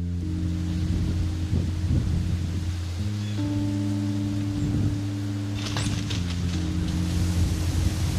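A windy November morning in a Midwest whitetail hunting stand, with a steady rushing wind noise running throughout over low, steady tonal hum layers, no talking.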